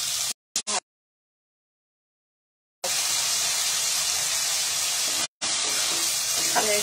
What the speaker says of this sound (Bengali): একসাথে ভেজে নিচ্ছি।